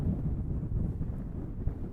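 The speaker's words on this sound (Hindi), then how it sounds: "बहुत तेज़ हवा है" Strong wind gusting at a lake in Hunza, a close, steady low rumble of wind buffeting the microphone with no voices heard.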